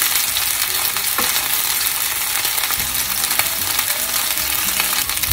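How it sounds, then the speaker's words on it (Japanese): Patties of chicken breast, shiso leaf and cheese fry in a pan over low heat, giving a loud, even, continuous sizzle with occasional light clicks and scrapes. "弱火で焼いていきます。"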